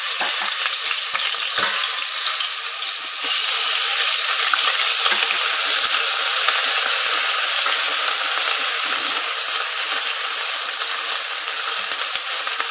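Steady, loud sizzling of ginger-garlic paste frying in hot oil, close and continuous, with faint stirring sounds.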